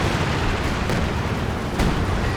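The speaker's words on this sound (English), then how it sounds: "She should barrage out the back, combining up with the major artillery" Artillery barrage explosions in a Company of Heroes 2 match rumble as dense, continuous booming with a couple of sharper bursts, loud and steady throughout, with no voices.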